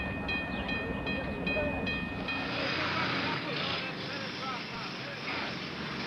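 A diesel train runs on a Nigerian railway, giving a steady, loud rolling rumble with a hissing wash throughout and a few high tonal notes near the start.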